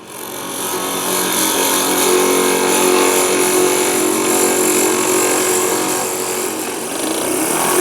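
A drill bores into laminated wood pen blanks, a loud steady high whine with bright mechanical overtones running close and continuous, dipping briefly near the end, with no voices.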